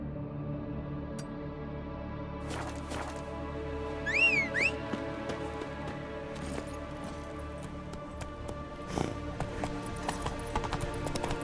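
Horse hooves clip-clop steadily in The Witcher 3 video game, a quiet rhythmic trot under a low game ambience with a brief whistle-like call.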